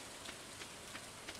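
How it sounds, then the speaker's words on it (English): Steady, quiet rain in a video game patters as a soft wash of noise, with faint drop taps every third of a second; no voices. "Oh, it's raining on Jing."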